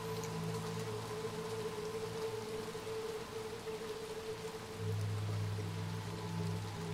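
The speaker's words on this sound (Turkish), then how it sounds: "Oh yağmurlu hava, yemin ederim en sevdiğim" Steady rainfall in the video game Little Nightmares 2, an even hiss of drops over a low droning hum that swells slightly near the end, with no voices.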